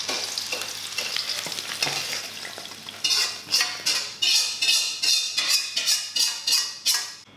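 Mushrooms and vegetables frying in a hot pan for a Chinese stir fry, a close, loud sizzle that turns into rhythmic tossing bursts in the second half, with no voices.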